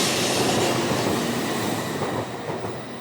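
The Tokaido Shinkansen bullet train runs with a continuous broadband rumble and rushing noise. The sound is close and steady, easing slightly toward the end, with no speech.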